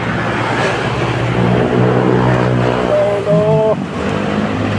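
Road traffic on a street in Binangonan, Rizal, with construction along the road: a steady loud engine drone from nearby passing vehicles, with a brief higher horn-like tone near the end.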